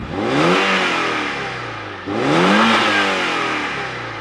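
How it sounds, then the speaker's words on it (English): A 1994 Porsche 968 engine heard from outside the car revs twice in succession, each rev rising and falling smoothly in a loud, close, throaty sweep with no talking. "Thankfully, it lets you rev out all the way."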